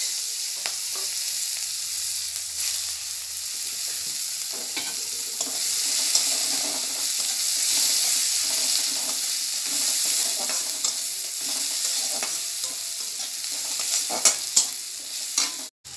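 Nigella seeds and onion fry in hot oil for a Bengali bhetki fish curry, a steady broadband sizzle running throughout, close and fairly loud, with occasional soft stirring scrapes and no talking.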